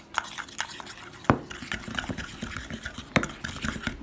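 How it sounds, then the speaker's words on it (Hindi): A spoon stirs and mixes a sauce with ground chili, making soft wet scraping and clinking strokes against a bowl in an uneven rhythm. The sound is close and fairly quiet. "अब इसको हम अच्छे तरीके से मिक्स कर लेंगे।"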